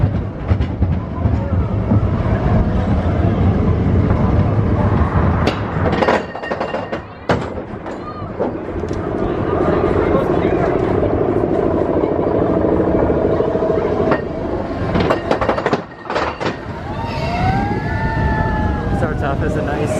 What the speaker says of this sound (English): Starts off as a nice casual train ride.